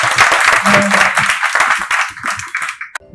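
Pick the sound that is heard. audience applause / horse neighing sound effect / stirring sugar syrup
audience applause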